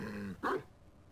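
A single short dog bark from the Ace Attorney Investigations 2 game, one quick, fairly close yelp that follows a brief tone and then fades out.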